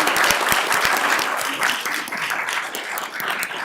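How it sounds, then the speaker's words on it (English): An audience at a town board meeting claps steadily, with dense, sharp applause from a modest crowd. It carries on for several seconds and fades slightly toward the end. "So let's give them a round of applause."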